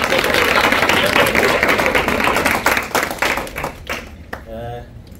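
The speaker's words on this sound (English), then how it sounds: "can we please give him a big round of applause" An audience at a 2023 youth leadership summit gives a speaker a big round of applause, dense and loud clapping that thins into scattered claps before a voice begins speaking.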